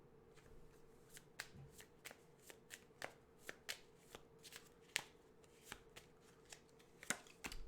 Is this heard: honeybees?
no